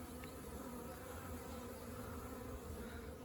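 Many young honeybees buzz continuously around the listener at a hive in February, a dense, even drone from nearby insects with no pauses and no voices.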